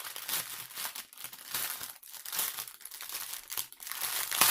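A plastic bag of diamond painting drills is crinkled and handled in continuous close, loud rustling bursts with no speech.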